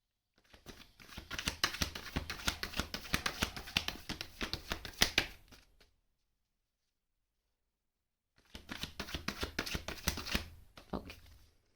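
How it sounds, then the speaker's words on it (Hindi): Tarot cards being shuffled by hand: two bursts of rapid, close riffling and pattering, the first about five seconds long, then a pause, then a second shorter burst, soft and without talk. "3 कार्ड्स शफल करते हैं"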